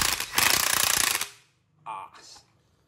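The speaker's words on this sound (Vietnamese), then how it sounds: "cái lực đập búa của nó rất là khỏe" A DCA ADPB20F cordless impact wrench, rated at 650 Nm of bolt torque, hammers in a loud, dense rattling burst of about a second before winding down, followed by a short separate sound.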